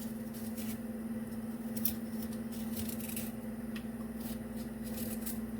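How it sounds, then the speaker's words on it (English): A knife scrapes the peel from a ginger root in a kitchen, making a quiet, continuous scratchy rasp over a steady low hum. "first thing you want to do is to peel the ginger or scrape the ginger. And you do it like this, you scrape it."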